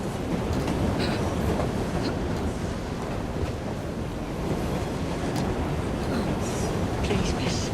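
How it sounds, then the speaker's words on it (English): A train runs on rails in Assassin's Creed Syndicate, set in London, giving a steady rumbling, rushing roar with faint clanks throughout, loud and continuous while a voice talks over it. "We'll know as soon as the train slows, miss."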